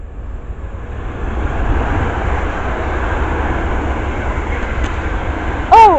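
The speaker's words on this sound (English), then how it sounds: "The next train passed by is going to be a pair of London First American Class 350s going from London Euston to Birmingham New Street." Two Class 350 electric trains pass North Wembley station on an Euston service, a sustained rumbling rush of wheels and motors near the platform, ending in a short, loud two-tone horn blast.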